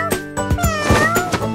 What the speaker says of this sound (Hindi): मैंने बिल्ली देखी,